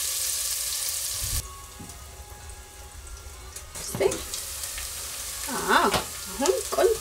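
Carrots and potatoes fry in a pan with a soft, continuous sizzle, broken by a sharp clatter and a few stirring scrapes and clinks later on.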